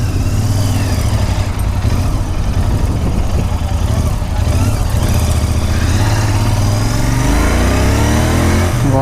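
A Royal Enfield Interceptor 650 motorcycle's 650 cc twin engine idles loudly up close with a steady low throb, then revs and climbs in pitch near the end, with no pause in the sound.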